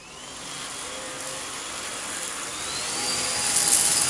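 A Bosch Athlet cordless vacuum cleaner is switched to a higher setting and its motor whine climbs steadily in pitch and loudness, rising to a strong rushing hiss with no talk over it.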